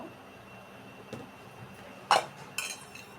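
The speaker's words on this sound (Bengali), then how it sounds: "অন্য একটা কড়াই বসিয়ে দিলাম" A metal wok (kadai) is set down on a kitchen stove, giving two or three short, faint clanks over quiet background with no talking.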